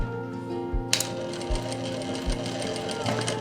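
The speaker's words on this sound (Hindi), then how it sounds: "अब मैं सिलाई लगाना स्टार्ट करूँगा" Sewing machine running steadily while stitching a zip into the back of a kurti, with a continuous motor whir and rapid needle rhythm, close and moderately loud, with a few brief clunks as the pace shifts.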